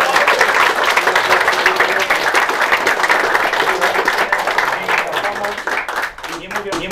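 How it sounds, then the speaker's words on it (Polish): Loud applause from a gaming tournament crowd, dense steady clapping close by that thins toward the end as a voice begins talking over it. "Wielkie brawa!"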